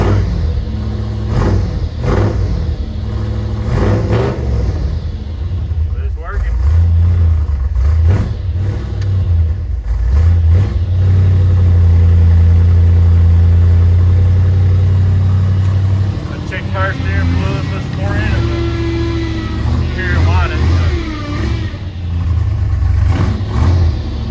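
Car engine idling and then revving in loud surges, with the deep drone rising and falling over about twenty seconds while people talk nearby.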